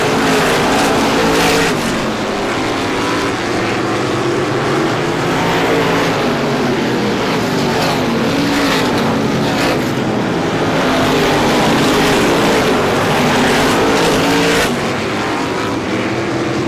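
Stock race cars roar around the track in a continuous, loud blur of engines, with cars passing close and the pitch rising and falling as they come through the turns.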